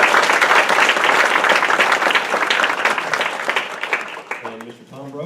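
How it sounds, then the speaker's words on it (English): Audience applause fills a business networking event, a dense, loud wash of many hands clapping that thins out near the end as a voice begins speaking. "Let's give them a big round of applause."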